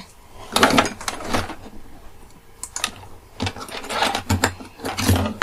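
A domestic sewing machine stitching a backpack seam, overlapping a few stitches to join it, runs in several short close bursts with brief pauses between them.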